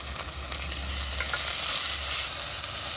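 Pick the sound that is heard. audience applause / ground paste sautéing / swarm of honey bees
ground paste sautéing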